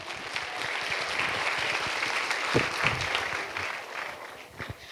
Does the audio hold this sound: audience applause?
yes